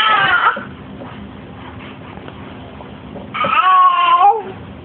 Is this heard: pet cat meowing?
yes